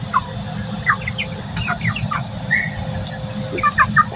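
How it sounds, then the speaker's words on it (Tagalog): Young chicks bought as hatchlings and now grown cluck and chirp nearby in short, scattered bursts over a low steady background hum, with no voices. "Ayan o, yung binili naming mga sisiw. Yan, malalaki na."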